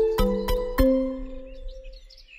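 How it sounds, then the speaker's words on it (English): A bird chirps three quick, bright tweets in a row, followed by softer high twittering that fades away, with no talking. "What sound does the bird make? Tweet, tweet."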